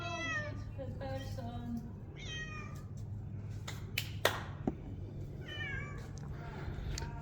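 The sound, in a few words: cat meowing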